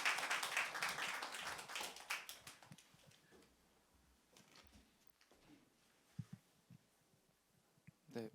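Church congregation applause on Easter Sunday welcoming a member forward, loud clapping from many hands at the start that fades within about three seconds, leaving a quiet room with a few soft knocks and shuffles.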